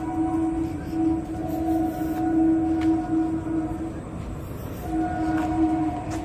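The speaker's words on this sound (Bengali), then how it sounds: "লেকের ওই পার দিয়ে ট্রেন যাচ্ছে, তার আওয়াজ পাচ্ছ হয়তো" A train runs along the far shore of Rabindra Sarobar lake on a winter evening, giving a steady distant rumble with sustained tonal hums that carry across the water without a break.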